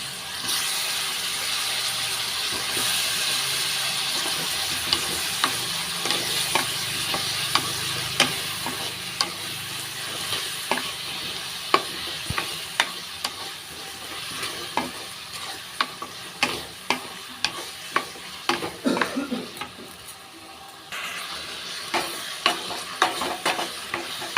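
Brinjal pieces sautéing in oil with tomato for a tamarind kuzhambu, a continuous close sizzle broken by repeated sharp spoon scrapes and clacks that grow more frequent and rhythmic, then a brief quieter lull before the frying resumes.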